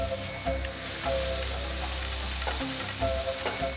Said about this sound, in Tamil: ஸோ வெங்காயம் சேர்த்துட்டு கொஞ்சம் லைட் கோல்டன் கலர் வர வரைக்கும் நல்லா வதக்கணும்